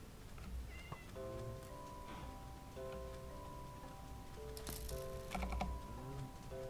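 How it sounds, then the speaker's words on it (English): Several Minecraft cats meow in short, clear calls scattered over a few seconds, some overlapping, with soft clicking from keys or controls underneath and no speech. "There's another cat."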